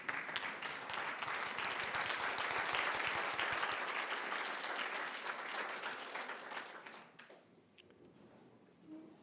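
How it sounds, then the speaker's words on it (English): Conference audience at a labor conference in a Reykjavik hotel gives a standing ovation, sustained loud clapping that holds for several seconds and then thins out and fades toward the end. "people applaud by standing up when I start my presentation"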